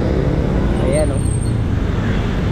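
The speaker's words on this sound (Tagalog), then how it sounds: "Traffic. Kasi umuulan, bumabaha." Busy road traffic during heavy rain and flooding, a loud dense roar of engines and wet tyres with a brief whine partway through, continuous and close.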